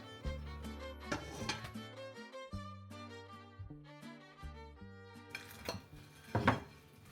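A crispy quesadilla is handled on a plate, making clattering clinks of the dish and a crisp shell being moved, with scattered hard knocks and short bright scrapes, fairly close and with no talk.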